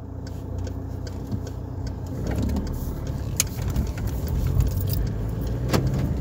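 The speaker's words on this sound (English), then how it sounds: "There's a lot of cars from the left." Cars move through busy traffic, a steady engine drone from inside a vehicle with occasional rattles and sharp ticking clicks layered on top, and no one talking.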